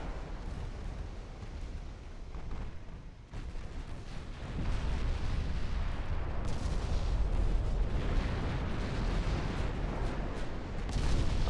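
Naval artillery in a 1917 French campaign of a warship strategy game, with heavy shells booming and rumbling as they strike a battleship, a continuous roar of repeated blasts that swells louder partway through.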